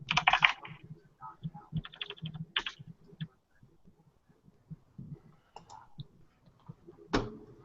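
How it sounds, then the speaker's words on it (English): Rapid bursts of typing on a mechanical computer keyboard, clacky and close, coming in uneven clusters with brief pauses and a sharper final flurry near the end. "Remember, freaking Tom has a mechanical keyboard"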